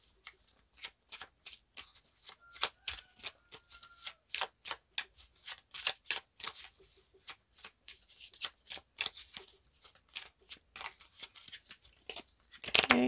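Tarot cards are shuffled by hand close up, a long run of quiet crisp riffling snaps in irregular bursts that build toward the end.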